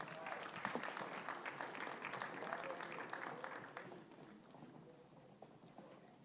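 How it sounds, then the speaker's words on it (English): Applause from an audience at a boy child commemoration event, a dense patter of clapping that is fairly steady at first, then thins and fades toward the end. "Let's give them another round of applause."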